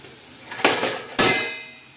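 A plate used as a lid is lifted off a pan of cooking green vegetables, giving two loud, close metallic clanks, each followed by a short ringing scrape.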